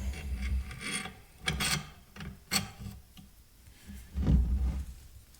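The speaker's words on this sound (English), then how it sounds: "Then we want to slide the gas cylinder back onto the barrel." A metal M1 Garand gas cylinder is slid back onto the rifle barrel, giving close scraping, rubbing metal-on-metal sounds in several short bursts with small clicks between them. Nobody speaks.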